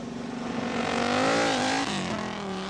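A 1986 Group B rally car on studded snow tyres, a Peugeot among them, powers across a frozen lake in Sweden. The engine's loud revving whine rises and then falls as the car sweeps past close by.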